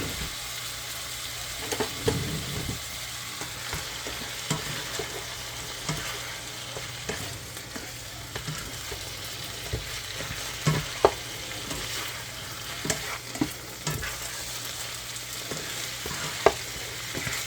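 Beef and broccoli stir fry sizzles steadily in a pan while two spatulas scrape and toss the food, giving irregular clacks and scrapes over a constant frying hiss.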